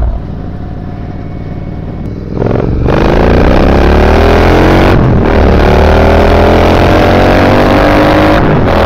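A supercharger-equipped Triumph Bobber motorcycle engine runs near the microphone, idling and then blipped into a strong rev that rises and settles into a loud, steady high idle with a second brief throttle burst near the end.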